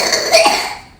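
A child's cough in the morning, a short burst of two or three hacking coughs close by, fading into quiet at the end.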